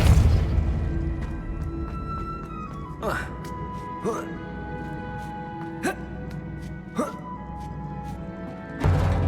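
A Depulso spell is cast in Hogwarts Legacy, a sharp burst among several repeated magical impacts that stand out over a steady game music bed, with a closing hit at the end.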